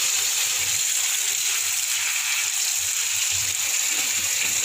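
Washed lasoda fruit drain in a basket, a steady close hiss of running, trickling water that continues without pause and with no voices.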